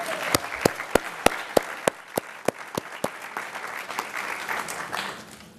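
Audience at an identity theft seminar applauds, with a few sharp, evenly spaced close claps standing out over a softer crowd patter that fades toward the end.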